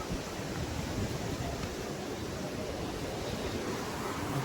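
The Yamuna, running low in a mountain valley, flows beneath an iron bridge as a constant, fairly loud broadband rush of water with no pauses.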